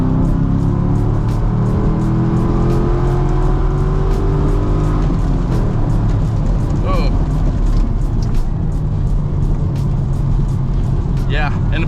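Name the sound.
V8 sports car accelerating at half throttle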